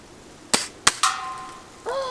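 Two sharp gunshots, then a third crack with a ringing tail as a distant plastic bag is hit, followed by a faint rustle; loud and close against quiet outdoor background.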